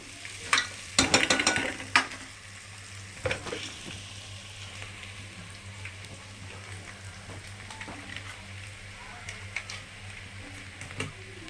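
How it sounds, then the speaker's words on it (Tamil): Ginger garlic paste sautéing with onions in a pan, with a burst of stirring and scraping near the start followed by a steady soft sizzle and occasional light clinks. "இந்த ஸ்டேஜில் நம்ம இஞ்சி பூண்டு பேஸ்ட்டு சேர்த்துக்கலாம்"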